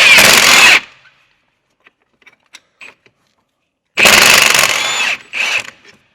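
A ratchet wrench backs out a retaining bolt on a Peugeot 208 during front wheel bearing work. Two loud, close bursts of rapid clicking are separated by a pause with faint scattered ticks.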